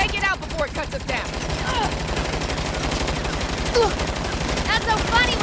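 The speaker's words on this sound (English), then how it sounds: "Not so funny when you're taking fire, huh?" Gunfire in the video game Saints Row rattles as rapid, evenly spaced automatic shots that go on steadily throughout, loud and close, with chirping ricochet-like sounds and faint voices mixed in.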